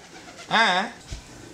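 Pigeons give a single short, rolling coo, loud and close, set against a quiet background.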